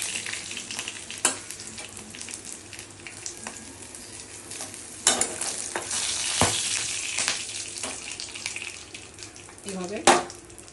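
Dried red chillies, cardamom and white sesame frying in hot oil for a garlic-free brinjal curry, a steady close sizzle with occasional stirring clinks and scrapes, no talking.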